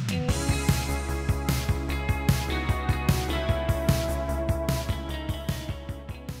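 Full music mix played through a bus compressor on the master output, taking about 2 to 3 dB of gain reduction at a 2:1 to 4:1 ratio; steady drum hits pulse under sustained tonal parts throughout.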